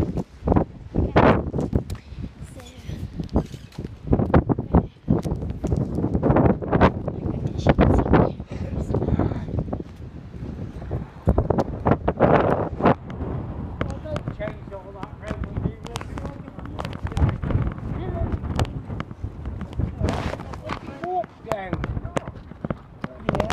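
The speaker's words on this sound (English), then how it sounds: "I'm lucky because the wind's in your back" Strong wind buffets the microphone outdoors in rough, continuous gusts with rumbling noise, while someone talks over it.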